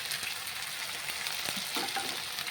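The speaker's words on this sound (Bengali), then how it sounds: "টমেটোর পেস্টও ভালো করে ভেজে নিব" Tomato paste frying in a pan for a cauliflower and egg curry, giving a steady broadband sizzle with a few soft stirring scrapes near the end, close and moderately quiet, with no talking.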